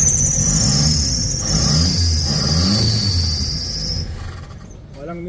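A Toyota 2E car engine idles with a steady low rumble, overlaid by a strong high-pitched whine or squeal that cuts off near the end, heard close.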